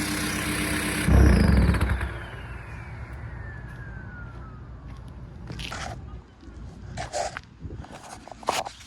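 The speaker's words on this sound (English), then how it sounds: "Now you can really hear that turbo sing." A VW Golf TDI's turbo whistles in a thin, falling whine that slides steadily downward for several seconds after a loud burst of engine noise, with the engine running underneath.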